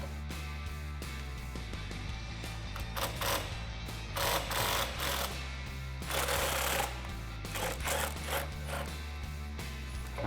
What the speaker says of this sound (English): take your 18 socket and remove that top nut while the spring is compressed